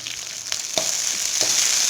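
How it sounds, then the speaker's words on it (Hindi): Green peas frying in a pan with lightly browned onion, a steady close sizzle with a few soft stirring taps, no one speaking. "हरे मटर डाल के अच्छे से भून लेंगे"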